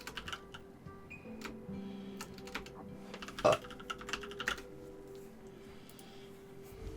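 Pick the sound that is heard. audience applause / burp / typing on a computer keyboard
typing on a computer keyboard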